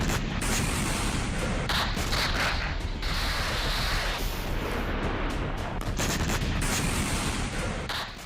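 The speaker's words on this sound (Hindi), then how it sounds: "बादलों के टकराने की आवाज से भी ज्यादा दहलाने वाले विस्फोट की आवाजें" Heavy blasts and rumbling booms of wartime explosions in Ukrainian cities roll continuously, dense and loud, with sharp bursts breaking through a constant roar.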